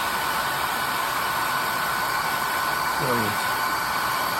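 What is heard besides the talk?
hair dryer on low setting drying watercolor paint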